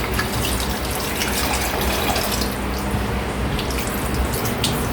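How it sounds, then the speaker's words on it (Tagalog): Steady, loud tap water running into a kitchen sink while raw chicken breast is rinsed under it, a continuous splashing gush with small irregular spatters and no talking. "First thing, hugasan natin yung chicken breast."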